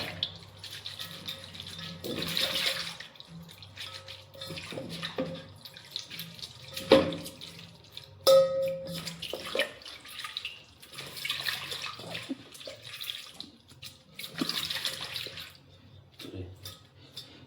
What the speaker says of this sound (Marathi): शाबूला असं धुवून घ्यायचं कधी बी भिजवण्याच्या अगोदर